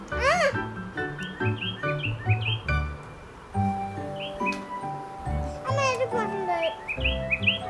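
Toy birds give repeated bright, sweeping electronic chirps and tweets in short bursts near the microphone, while young children and an adult talk in between.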